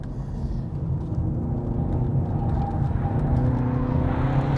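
Steady engine drone and road rumble from a BMW 330i petrol car in Sport Plus mode on a track lap, heard from inside the cabin, continuous and moderately loud with a slowly rising pitch.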